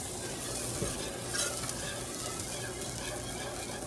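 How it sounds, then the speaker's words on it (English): Ingredients, including a dab of Dijon mustard, are whisked together in a bowl with a steady, close, scratchy rhythmic swishing and a few faint clinks, with no voices. "So we're just going to whisk this all together."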